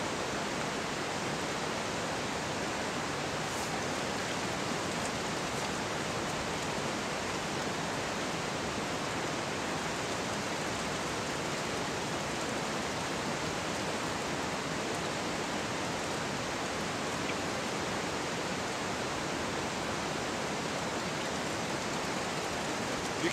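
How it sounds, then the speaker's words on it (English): A river runs continuously in the background near a hot well discharge test setup, a dense, even rushing hiss that stays steady and fairly loud throughout, with no voices heard. "You can hear the sound of the river in the background."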